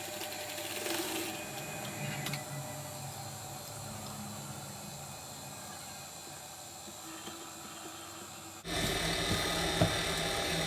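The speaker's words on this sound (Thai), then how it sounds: "ทีนี้เราก็จะมาเย็บยางยืดของเราติดกันนะคะ" A sewing machine stitches elastic band ends together for an elastic-waist skirt, a steady fast whirring hum running throughout, growing a bit louder and harsher near the end, with no talking.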